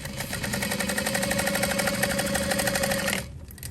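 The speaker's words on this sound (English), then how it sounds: "And I'm just gonna baste that on." A sewing machine basts fabric for a small parachute knapsack, a fast steady mechanical whir with rapid needle ticking, close and continuous for about three seconds before stopping abruptly.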